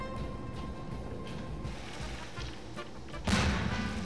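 Explosions in Garry's Mod aboard a sinking ship: a steady low rumble runs throughout, then one loud, sharp blast bursts in near the end and rings on.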